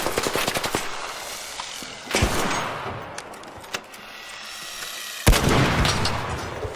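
Gunfire in a video game strikes a ship's wing, with dense rapid bursts of shots and heavy booming impacts that come in waves across several seconds, loud and close, with no talking.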